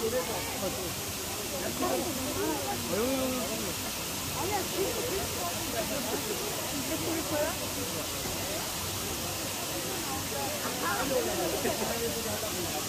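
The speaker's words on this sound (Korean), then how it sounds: "물 소리 들으시면서 수면을 취하시면 아주 상쾌한 잠을 주무실 수가 있습니다" Steady broadband roar of falling water at the second waterfall of Cheonjiyeon Falls on Jeju Island, constant and unbroken throughout with faint voices mixed into the rush.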